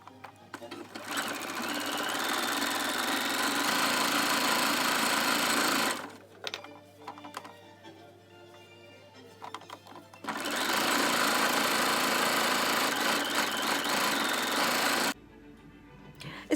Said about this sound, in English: we are gonna start sewing, and I have my pieces here at the machine